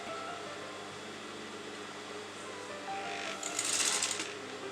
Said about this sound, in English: you're going to sew it on the top like this